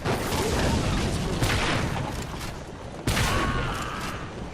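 A grenade-launching trap in Orcs Must Die! 2 fires at light orcs, producing dense, crackling explosions and booms layered into a chaotic rumble, loud throughout with a sharp fresh blast near the end.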